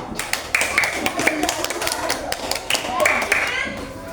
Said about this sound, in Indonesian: Coba sekali lagi kasih tepuk tangan buat kelompok 2.